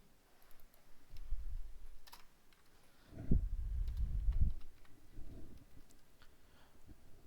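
Scattered clicks and a few bursts of typing on a computer keyboard while entering code, soft and close with quiet gaps between the keystrokes, no speech.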